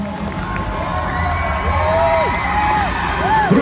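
A Monster Jam arena crowd cheers and whoops loudly and continuously as the Megasaurus monster truck tears apart a car, while an announcer talks over the roar.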